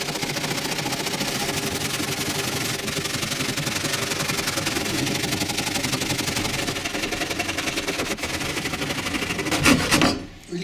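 Piece of wood for a floating coat hanger cut straight with a steady, loud rasping saw drone that runs without pause before stopping abruptly near the end.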